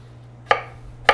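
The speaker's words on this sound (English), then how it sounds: "You have any tips for chopping potatoes?" A knife chops potatoes in two distinct, crisp strikes against a board about half a second apart, close and clear over a faint steady hum, with no talking.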